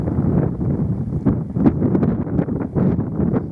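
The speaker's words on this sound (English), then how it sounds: "it's windy as hell, guys, up here" Strong wind gusting across an exposed hilltop at Pendle, a steady low roar of buffeting against the microphone with a few louder surges, no voices.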